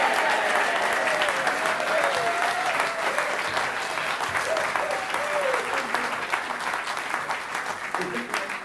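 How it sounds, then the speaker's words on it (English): Sustained applause fills a folk club room at a gold badge presentation, as the audience claps for the MC in a dense, even roar of many hands with some voices mixed in. "Could we have a round of applause for the crap MC?"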